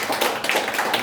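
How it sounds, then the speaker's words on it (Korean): A church congregation claps together during a Sunday service, a brief, dense and fairly loud patter of many hands with no talking over it. "박수 한번 해주시기 바랍니다."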